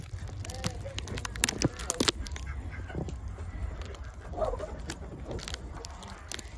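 Farm ducks honk and quack in scattered calls, moderately close, mixed with rustling and a person talking, as the farm is readied for a late winter storm.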